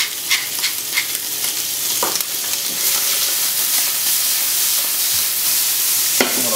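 Kidneys searing in a hot pan make a continuous, bright sizzle that builds and holds steady, with scattered sharp pops and crackles, close and fairly loud.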